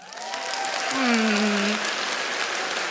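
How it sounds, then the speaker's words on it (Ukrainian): Stand-up comedy audience clapping, rising fast into a dense round of applause from the hall that stays steady to the end, with a brief voice or whistle sounding over it early on. "А поаплодуйте, хто зараз закохані"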